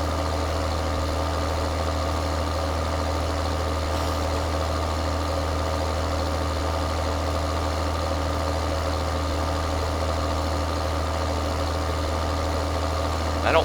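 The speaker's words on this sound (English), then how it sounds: "I'm going to use this tractor to do the planting." A tractor in Farming Simulator 2013 idles at a steady low rumble with a constant engine drone and no change in pace. It holds at an even level and there is no talk.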